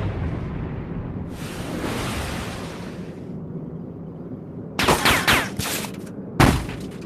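Enemy gunfire in a warplane combat video game: sharp clustered bursts of shots crackle loudly in two volleys, first a rapid string of several reports, then a shorter burst, over a steady low engine rumble.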